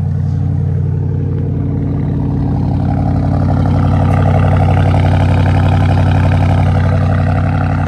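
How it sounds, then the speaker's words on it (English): 2021 Porsche Cayenne Turbo S e-Hybrid engine running in sport mode with the sport exhaust open, a loud, steady, deep rumbling drone with throbbing low tones, close and continuous for several seconds, no voices. "Then in sport mode, we kick on the sport exhaust, the engine and everything."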